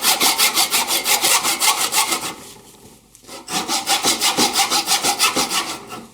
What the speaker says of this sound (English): I'm just kind of letting the saw follow the kerfs that are already established here and just letting it go